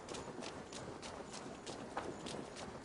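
Horse hooves clip-clopping in the video game Assassin's Creed Valhalla, a steady, even run of moderately loud hoofbeats over a dense background, with no talk over them.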